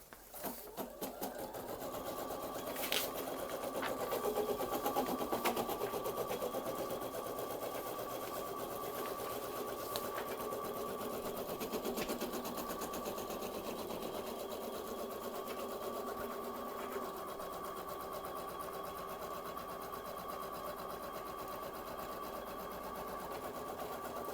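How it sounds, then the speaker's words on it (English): Embroidery machine stitching a frame on hooped stabilizer, a fast steady mechanical whir and rattle running continuously at close range with a few faint clicks, with no talk. "we have our stabilizer hooped on the machine and we're going to stitch frame 1 just like the directions specify"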